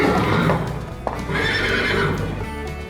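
A horse neighs loudly and close, a long wavering whinny with a brief snort midway, with faint hoof clops and a low rumble underneath.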